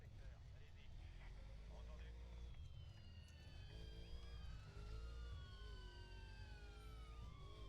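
A police siren in a video game wails over a steady low engine drone, its rising and falling tones weaving through the mix with faint voices underneath.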